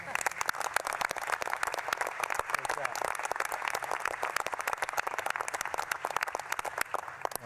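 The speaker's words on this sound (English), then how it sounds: "I think that's worth a round of applause." Applause at a National Space Council meeting, a steady room-filling patter of many hands clapping continuously without a break, moderately loud and close.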